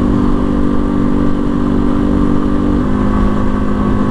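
A Janus Phoenix 250 motorcycle engine drones steadily while riding, a loud, close, continuous mid-pitched hum with no pauses.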